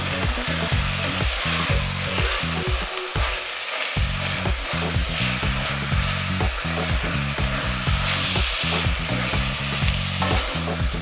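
Meat sizzling loudly in hot oil in a pan for a Sicilian ragù, a constant close crackle broken by the rhythmic scrape and clatter of stirring, with no voices.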